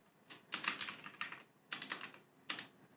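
Quiet bursts of fast typing on a computer keyboard, three short clusters of key clicks with brief pauses between them, close and alone.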